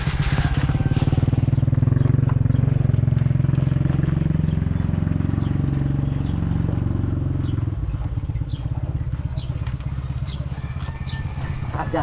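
A motorcycle engine runs nearby at a steady idle, a continuous rough putter with faint clattering that eases slightly toward the end.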